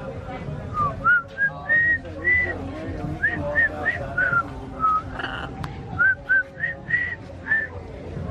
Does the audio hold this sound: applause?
no